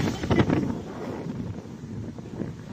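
Strong wind at Pucio Point in Antique, Philippines, buffets the microphone in low rumbling gusts, loudest at the start and easing slightly, with no voices.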